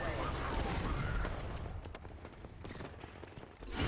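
Gunfire in the Apex Legends video game: loud rapid bursts of shots and booming impacts, dense at first and then thinning, mixed with voices talking over it.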